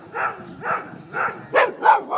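Two friendly dogs bark in a quick run of about six separate woofs, fairly close and loud, with short pauses between the barks.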